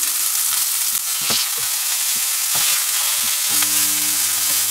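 Minced beef steaks topped with mustard frying in a pan, a loud continuous sizzle with scattered crackles and a low tonal hum toward the end, with no voices.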